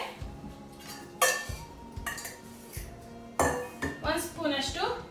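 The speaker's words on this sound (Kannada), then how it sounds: "ಇವಾಗ ನಾನು ದೊಡ್ಡ ಒಂದು ಫ್ರೈಂಗ್ ಪ್ಯಾನ್ ಇಟ್ಟಿದ್ದೀನಿ." A big frying pan is set down and handled on a stove, producing scattered metallic clanks and clinks with brief scraping between them, close and fairly loud.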